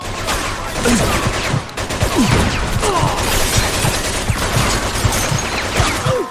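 Sustained heavy gunfire in the Mafia 2 video game on Xbox 360, dense overlapping shots and ricochets forming a loud, continuous barrage with no letup across the whole stretch.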